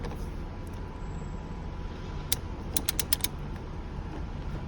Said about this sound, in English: M12 Torx, M12 triple point socket, and our socket wrench, and we're just going to loosen this wheel.